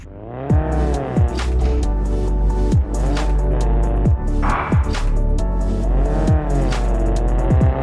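A car in the mobile game Car Parking Multiplayer, test-driven after an engine swap and new body panels: a constant engine drone with repeated rising revs that drop sharply at each gear change, plus brief tire-squeal bursts, with no talking.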